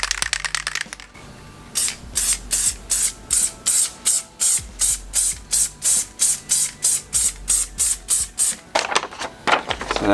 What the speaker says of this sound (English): So I'm going to spray a light tack of the craft bond down.